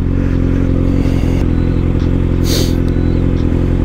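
A Kawasaki ZX6R motorcycle rides at steady speed with a continuous loud engine drone and wind rush, heard up close without any talking.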